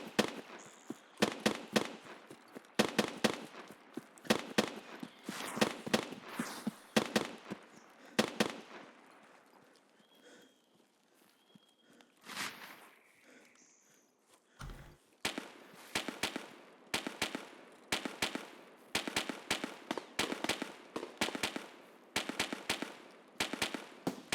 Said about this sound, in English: I bet that's an unsuppressed SR25. I bet that's what I'm hearing.